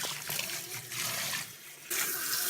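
Water runs and trickles steadily as a small Yorkie terrier is rinsed during a bath in a tub or sink, a soft continuous splashing flow with a brief dip in the middle.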